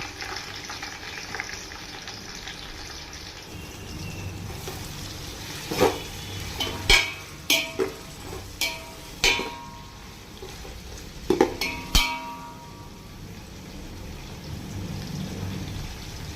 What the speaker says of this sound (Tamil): இப்போ அதில் 4 பட்டை, ஒரு அன்னாச்சி பூ, கொஞ்சமாக கடல் பாசி, 4 ஏலக்காய், ஒரு 15 லவங்கம் சேர்த்துக்கலாம். அது பொரிஞ்சு வந்துடும்